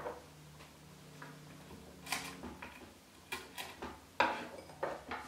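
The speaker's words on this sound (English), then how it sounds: "I'm just going to roughly chop these walnuts into slightly smaller," A knife roughly chops walnuts on a chopping board, giving soft, irregular taps and clicks that come sparse at first and then grow more frequent, close and fairly quiet.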